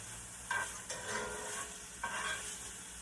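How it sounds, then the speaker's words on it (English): Smoked andouille sausage sizzles quietly in a pan, with a few short bursts of louder crackling and stirring sounds over a soft hiss. "we getting this sizzling over here"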